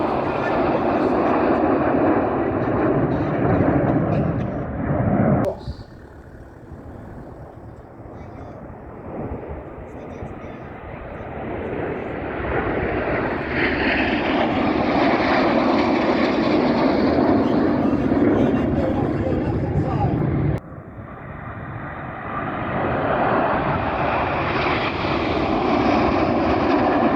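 Red Arrows jets fly a display manoeuvre at the Shuttleworth airshow, a loud roaring rush that swells and fades in long passes, cut by brief drops, as a commentator talks over it.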